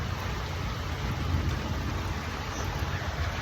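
A steady, dense hiss of heavy unseasonal rain fills the space, constant and even, with a faint low rumble beneath and no talking.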